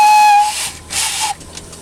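A model steam launch sounds its steam whistle in two loud blasts, a clear tone over hissing steam, the first longer, the second shorter after a brief gap.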